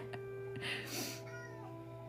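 A pet cat named Achilles gives a couple of short meows, faint and somewhat distant indoors over a steady electrical hum.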